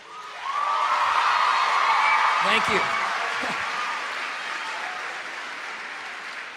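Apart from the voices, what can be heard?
audience cheering and applauding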